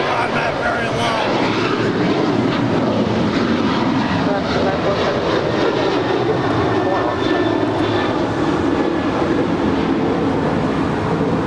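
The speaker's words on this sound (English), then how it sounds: "That was Alaska Airlines Flight 512 and a 737-900ER." An Alaska Airlines Boeing 737-900ER passing at LAX produces a loud, sustained jet roar with a whining tone, steady and close throughout, while someone talks over it.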